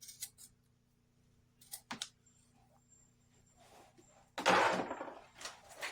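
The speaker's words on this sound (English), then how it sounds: "I'm going to do my standard thing that I usually do, is to snip these at an angle" Scissors snip the ends of flower stems at an angle while a performance hybrid is put together, giving a few sharp close clicks spaced out over quiet, followed by a louder rustling burst.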